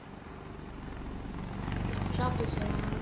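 Helicopters circle overhead in Spider-Man on PS4, a steady rotor and engine drone building louder over a few seconds, with a low rumble beneath and speech mixed in.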